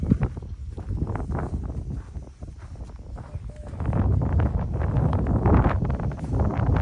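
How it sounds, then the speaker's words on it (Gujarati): Wind gusting across an open farm field with onion crops, a steady broadband rush that swells louder in the second half, with faint rustling and scattered knocks but no speech. "પવન ભાઈ મસ્તીનો છે"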